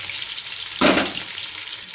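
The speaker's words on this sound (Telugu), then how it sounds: "ఉల్లిపాయలు బాగా వేగుతున్నది." Onions frying in hot oil for biryani, a steady close sizzle with one brief louder burst of crackling partway through, no voices.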